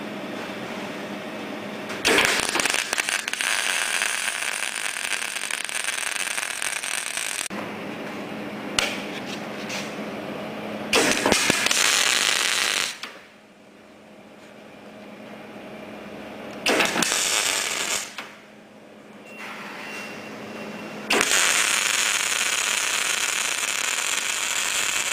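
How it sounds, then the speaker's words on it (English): A Telwin MIG 222 welder lays short runs at 50 amps, loud steady buzzing crackle in several bursts separated by quieter pauses, close up. "we're just doing some standard welding just to show you the settings for the machine"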